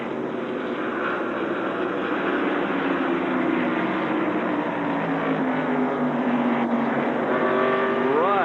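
The Levi Garrett Chevrolet NASCAR stock car rolls down pit road at Darlington during the 1990 Southern 500, its engine droning loud and steady with pitch sliding down as it slows.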